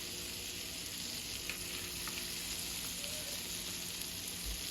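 Butter and eggs fry in a pan, giving a continuous, even sizzle with faint crackles and occasional small stirring sounds, steady and fairly quiet throughout with no speech.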